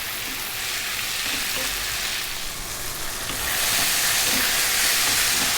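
Onion, tomato and eggplant fry over high heat in a pan, giving a steady close sizzle with occasional stirring scrapes that swells louder toward the end.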